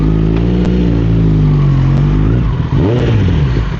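Kawasaki ZX6R sport motorcycle engine running loud and close, with a steady mid-pitched drone that rises and falls through revving throughout, no talk.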